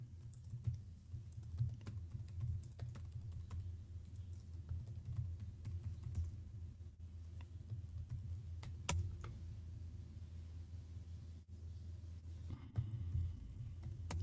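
Keys tapped on a computer keyboard while a password is entered during a Linux setup, a steady run of quiet clicks over a low background hum, no talking.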